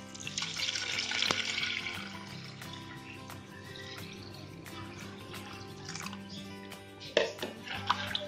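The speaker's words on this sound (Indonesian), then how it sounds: "Setelah itu kita masukkan air 1 liter" Water poured into a pot or container for cooking, a liter going in as a steady splashing rush that gradually settles, with a few clinks near the end and no talking.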